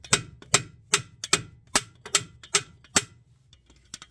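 Eight or nine sharp metallic hammer strikes ring out on the steering knuckle of a Hyundai Sonata Limited during tie rod end replacement, evenly spaced at about two per second, close and loud, then fading to lighter taps.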